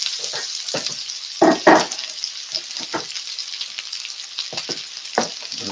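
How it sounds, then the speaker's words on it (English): Diced onion sautéing in a pan over heat being turned down toward medium-low, a steady close hiss with intermittent scraping and clatter of stirring, no voices. "We don't want to brown up the onion too much. We just want to soften it."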